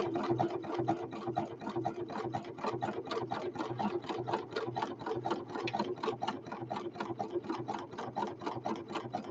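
A sewing machine runs stitches close to a fabric edge for a sewing machine cover. It makes a steady, rhythmic run of sharp needle strokes at an even quick pace, loud and near, with no talking.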